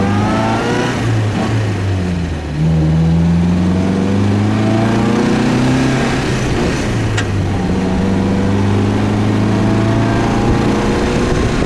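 A 1951 MG TD convertible's engine revving up and easing back several times, a loud, close, buzzing four-cylinder note that climbs and settles in smooth sweeps.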